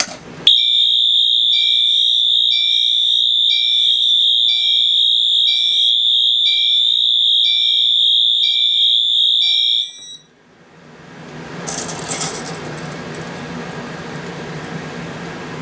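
A first generation MS6 fire alarm horn sounds continuously, a loud, steady, piercing electronic tone that runs unbroken for about ten seconds before cutting off and leaving background noise with some handling sounds.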